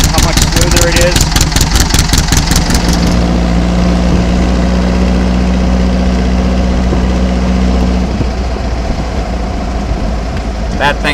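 A swapped engine idles low and smooth, a steady deep hum running throughout with some rapid ticking early on and louder revving at the start and end.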